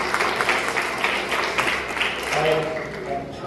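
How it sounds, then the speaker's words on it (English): Applause from the audience at a Lay Magistrate Association of Jamaica essay competition award ceremony honours the children, a moderate patter of clapping running beneath a speaking voice throughout. "Give them a big round of applause."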